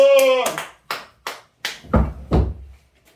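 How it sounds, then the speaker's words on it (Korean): Clapping at a Baptist Sunday worship service, a few separate claps in a loose rhythm after a brief sung or spoken note, with low thumps near the end. "박수!"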